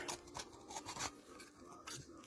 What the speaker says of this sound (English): We're going to poke the knife along the shell to break the clamp there.